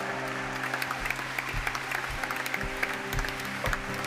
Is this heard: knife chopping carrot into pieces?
no